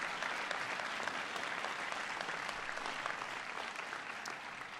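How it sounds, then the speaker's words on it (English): Steady, dense applause from a large audience at a presidential bill signing for a veterans act, a broad continuous wash of clapping held at an even level throughout. "Give them a big round of applause."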